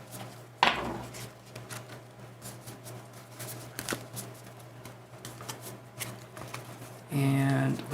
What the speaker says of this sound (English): let's shuffle the cards on up